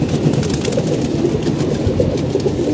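Domestic pigeons cooing softly in a loft, their low murmuring calls repeating over a steady, noisy background hum.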